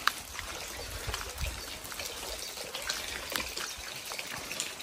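Running water outdoors in the southern Vosges mountains, a steady rushing trickle and splash with a broad hiss and occasional low gurgles, continuous and fairly close.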